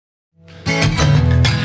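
Folk rock music starts after a brief silence, a full band entering with a strong downbeat and continuing with steady strummed guitar and rhythmic accents, loud and close.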